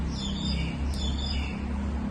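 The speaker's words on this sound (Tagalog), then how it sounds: "birds singing" Birds chirp and tweet in a high register over a steady outdoor rumble, the calls repeating throughout at moderate volume.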